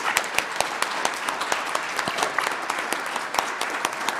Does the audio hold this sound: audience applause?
yes